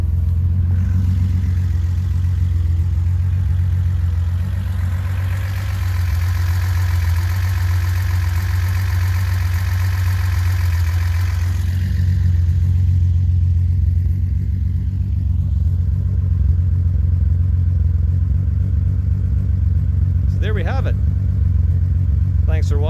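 A 1971 Datsun 240Z engine idles nearby with a steady, throaty low rumble, a faint squealing alternator belt audible at times, and a few short clicks near the end.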